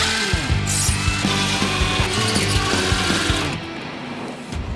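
Power tool whirring steadily and loudly up close as it backs out the 7 mm screws securing the headlight housing on a Chevy Colorado, droning without pause and easing slightly toward the end.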